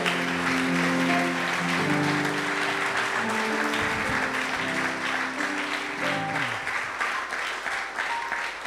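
A church congregation at a Sunday worship service at ACI Temple Péniel in Godomey breaks into sustained applause, a loud, dense clatter of many hands with cheering voices and held musical tones underneath, easing slightly toward the end.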